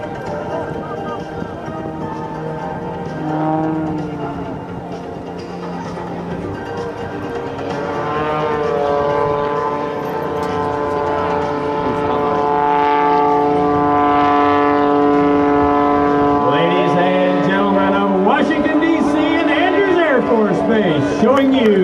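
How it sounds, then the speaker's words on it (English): Sean D. Tucker's Oracle Challenger aerobatic plane maneuvering at a 2009 air show, its propeller engine droning with rising and falling pitch sweeps as it turns and hovers, steady and fairly loud beneath a public-address announcer talking throughout. "he is going to turn this aircraft around, bring it back to Air Show Center, and set it up in a hover in front of you"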